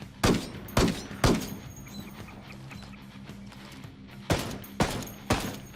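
SR25 sniper rifle shots in Ghost Recon Wildlands ring out at a measured pace: three loud sharp cracks, a pause, then three more, each trailing into a brief echo.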